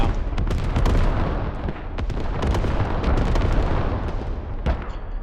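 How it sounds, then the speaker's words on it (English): Artillery strike pounding down in a squad-based military shooter game, a dense barrage of heavy booms and blasts rumbling continuously with sharp impacts scattered throughout, loud and close. "Filth Crab throws out the artillery strike"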